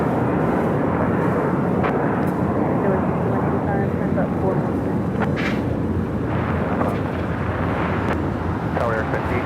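A Qantas Airbus A380 airliner at Los Angeles airport produces a loud, steady, broadband jet roar that fills the whole stretch, with faint voices underneath.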